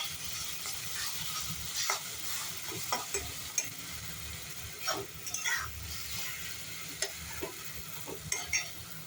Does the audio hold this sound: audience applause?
no